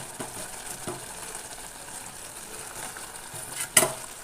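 Chicken curry with fried potatoes is stirred in a pan after pressure cooking, giving soft intermittent scraping strokes over a faint sizzle, with one sharp metallic clink near the end.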